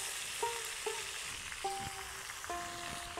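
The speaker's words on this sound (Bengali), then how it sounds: "আমগুলোকে ভালো করে তেলের সঙ্গে মিশিয়ে নিয়েছি।" Raw mango pieces are stirred in hot oil, giving a faint, steady sizzle with soft stirring scrapes. A few short electronic beeps sound over it, with no talking.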